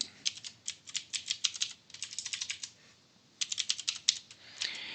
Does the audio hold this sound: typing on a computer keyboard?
yes